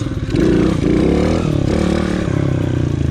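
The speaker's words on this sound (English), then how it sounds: "Chop the throttle, cut the bike up." A motorcycle doing a wheelie, its engine loud and close, revving up, then easing off as the throttle is chopped, with some rattle and clatter and no voices.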